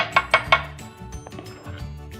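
Banana muffin batter spooned into muffin tins, heard as three quick metallic clinks of a spoon against the pan, then softer scraping and dull taps, close and alone with no talk.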